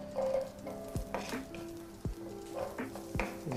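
Onions added to a little oil in a pan for a potato pie, sizzling softly while a utensil scrapes and knocks against the pan in several distinct strikes.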